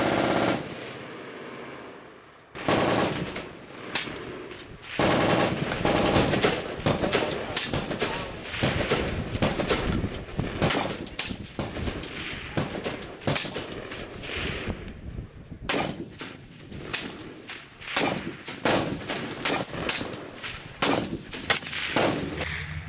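At an outdoor range, a rifle fitted with a Brass Hog Gen. 2 brass catcher fires long runs of rapid, loud shots. Short pauses break up the sustained, echoing volleys.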